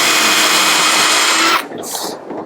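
A power tool drills or cuts into Land Rover metal soaked in WD-40 penetrating oil, a loud steady whine for about a second and a half that stops abruptly, followed by a short fainter burst.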